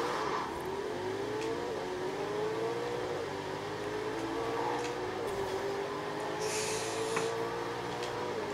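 A Koenigsegg and a Bugatti hypercar accelerating hard in the racing game Forza Horizon 3, the engine note climbing and shifting up through the gears as a steady loud whine over a constant roar, with no voices.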